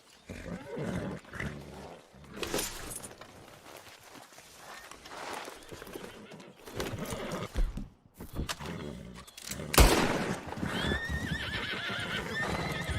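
A horse in Red Dead Redemption 2 neighs and gallops, a loud whinny and pounding hoofbeats mixed with game effects, with brief spoken urging over the top.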